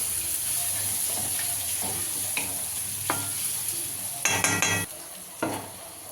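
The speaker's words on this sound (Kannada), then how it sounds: "ಸ್ವಲ್ಪ ಇಂಗು ಇಷ್ಟನ್ನು ಹಾಕ್ಕೊಂಡು ಚೆನ್ನಾಗಿ ಫ್ರೈ ಮಾಡ್ಕೊತಾ ಇದ್ದೀನಿ" Asafoetida and turmeric frying in oil in a pan for a vangibath gojju, a steady sizzle under intermittent stirring scrapes and a few louder metallic clatters of a spoon against the pan near the end.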